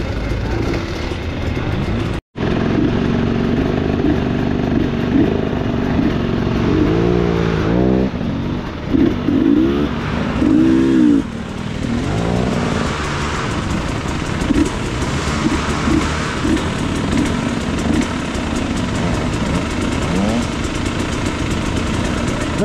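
A vehicle climbs a hill, its engine loud and close, revving up and easing off in waves over steady rumble and wind noise.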